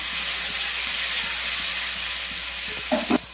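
Spices crackle and sizzle in hot oil as radish bhaji is cooked, a dense, steady frying hiss close to the pan, with a couple of brief knocks near the end.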